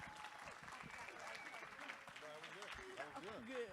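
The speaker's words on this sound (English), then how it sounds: "Clap one more time, because they're with us." Audience clapping at a discussion session on hip-hop, a short round of applause heard under ongoing talk and crowd murmur.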